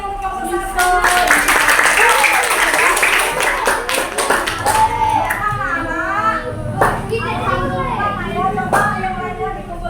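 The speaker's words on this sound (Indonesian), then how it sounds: "tepuk tangan untuk kelompok 1" A primary-school class claps for a group after a discussion, a burst of many small hands early on that fades as children's voices and chatter take over.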